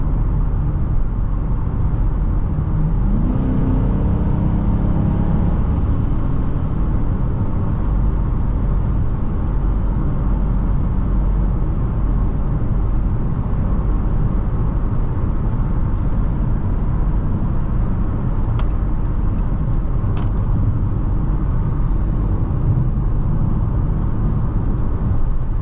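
A 2019 Dodge Charger Police car with a 5.7 V8 and all-wheel drive cruises along with a steady, loud engine drone and road and wind rumble, a brief rise in pitch early on as it accelerates, and no talking.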